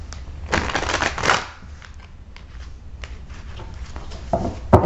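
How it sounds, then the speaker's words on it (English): Tarot cards are shuffled by hand in a few close, papery bursts of riffling and sliding, with quieter rustling in between and a sharp tap at the end, and no voices. "One more shuffle"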